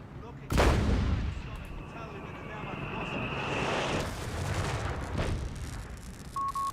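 A heavy artillery boom in the video game Company of Heroes 3 opens with a sharp blast, then a long rumbling roar and a second thud, loud and under commentary voices.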